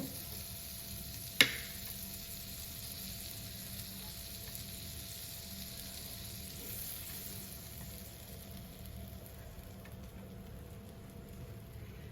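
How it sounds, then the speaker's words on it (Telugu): Bread toasts in melted butter on a pan, giving a steady, even sizzle and crackle close by for the whole stretch, with one sharp clink of a utensil early on. "ఇలా కొంచెం లైట్గా బ్రౌన్ వచ్చేలాగా కాల్చుకోవాలి"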